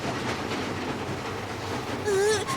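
A cartoon train runs slowly on rails in a children's animated show, giving a steady rolling rumble with faint clatter, then a brief whistle-like tonal call near the end.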